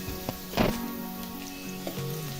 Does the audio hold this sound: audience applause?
no